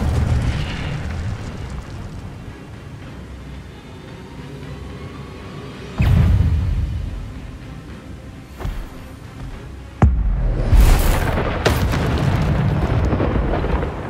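Incendio fire spell blasts in the video game Hogwarts Legacy: bursts of whooshing flame and booming impacts over rumbling combat noise, with two sharp loud hits landing a few seconds apart.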